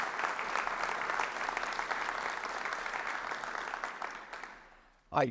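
A civic audience applauds city council members at a state-of-the-city event, sustained clapping that gradually thins and fades before a brief louder bump at the end.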